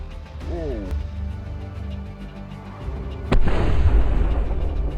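A grenade explosion in combat: a single sharp, loud blast about two-thirds of the way through, with a lingering rumble. Before it there is a quieter stretch with a brief voice.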